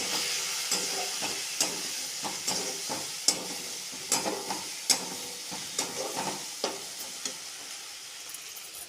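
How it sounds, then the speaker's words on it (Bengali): Cauliflower with poppy seeds stirred in a frying pan: a steady sizzle of frying with repeated scraping strokes of a spoon at an irregular rhythm, close and moderately loud, with no voices. "দিয়ে এবার নাড়ব।"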